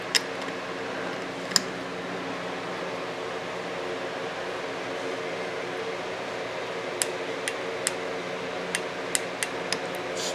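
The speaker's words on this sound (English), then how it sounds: "I'm using an inch-pound torque wrench, and I will do it to 45 inch-pounds." An inch-pound torque wrench tightens Torx switch housing bolts to 45 inch-pounds on a 2018 Harley-Davidson Fat Bob. Sharp single clicks sound over a steady background hiss, one early, another shortly after, then a quick cluster of clicks near the end.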